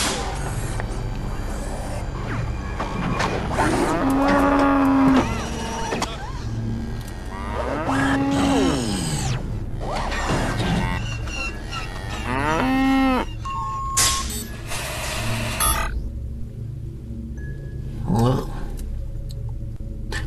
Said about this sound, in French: le bruit de la vache